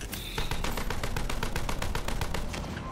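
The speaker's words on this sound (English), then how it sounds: "Who's shooting at me?" Rapid automatic gunfire in the video game Borderlands 3, a loud, steady burst of evenly spaced shots rattling continuously for a few seconds.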